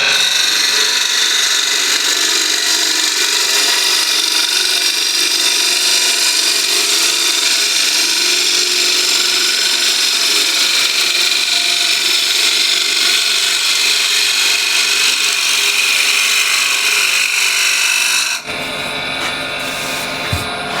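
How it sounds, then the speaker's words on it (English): Wooden bowl turning on a lathe, a ball gouge cutting the inside of the bowl: a loud, steady high-pitched cutting hiss lasting most of the clip, stopping abruptly near the end, leaving quiet workshop hum. "Ball gouge."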